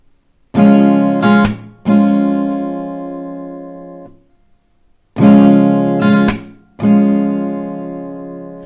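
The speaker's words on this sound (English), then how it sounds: "So you have a short little break after the first down, so down, up, clap, down." Acoustic guitar playing a down, up, clap, down strum, heard twice: ringing strums with a sharp percussive clap stroke between them, a brief silence separating the two rounds, close and loud with no voices.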